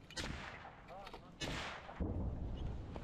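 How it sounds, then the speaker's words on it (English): Gunfire cracks during an infantry assault on Krasnogorivka, caught on a helmet camera, with several sharp reports and heavy low booms over rough ambient noise, partly overlapped by voices. "Here, see where they're shooting."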